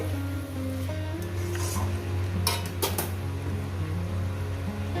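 Pieces of katla fish dropped into a spiced cooking pan, with a few close metallic clinks and scrapes and brief bursts of sizzle over a constant low mechanical hum.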